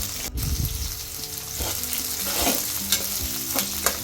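Capsicum and chicken frying in a pan for tamarind chicken, stirred steadily with a spoon. A continuous close sizzle runs throughout, broken by repeated scraping and clinking stirs, with no talking.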